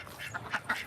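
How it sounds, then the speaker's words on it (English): Farm ducks on a homestead during the morning routine give three quick, loud quacks in a row, close by, with nobody talking. "We gotta get the ducks"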